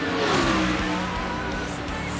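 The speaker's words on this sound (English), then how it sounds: "Bunch of cars just flying through." Race cars roaring past at the Daytona 500, a loud continuous engine drone with a falling pitch as they fly by, heard from trackside without talk.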